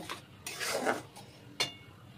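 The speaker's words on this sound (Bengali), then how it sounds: "দিয়ে এটা নাড়াচাড়া করে ভালো মতো কষিয়ে নেব।" A spatula scrapes and stirs egg masala in a frying pan, giving a few faint rasping strokes and a sharp knock against the metal.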